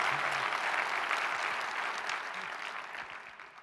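Audience clapping for a talk on finding one's wave, a dense wash of hands from a moderately distant crowd that gradually fades toward the end.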